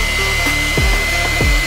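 A hair dryer blows steadily on mascara-coated eyelashes to curl them upward, a loud, close, continuous whooshing hum with a few faint pitch shifts and no talking.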